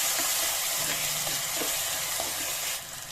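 Bay leaf, black cardamom and curry leaves sizzle loudly in hot oil in a pan for dhaba-style chana dal tadka, a dense, close, continuous frying hiss that eases slightly near the end.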